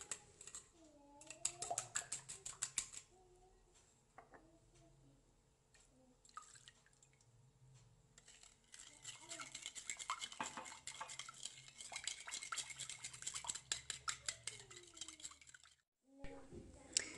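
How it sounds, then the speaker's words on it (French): A spoon whisks egg with vanilla sugar in a bowl, quick bursts of rapid clinking and scraping that come and go in runs, fairly close, with a soft voice in the quieter gaps. "Je fouette un peu l'œuf et le sucre vanillé juste avec la cuillère"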